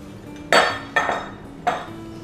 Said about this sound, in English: Now this needs to be mixed together so it forms quite a liquid batter.